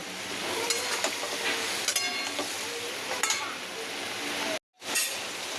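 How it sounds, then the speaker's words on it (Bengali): Vegetables and spice paste stir-fried in a wok, a steady close sizzle broken by repeated clinks and scrapes of a spatula against the pan, then a brief cut to silence near the end. "দেখো সবজি দিয়ে মশলা দিয়ে কষানো হয়ে গেছে"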